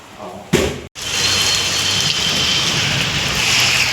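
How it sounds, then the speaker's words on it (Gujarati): Heavy rain pours down in a dense, steady hiss that hardly changes, broken only by a brief thud and a short gap at the start. "જો બહુ વરસાદ છે ગાઈસ"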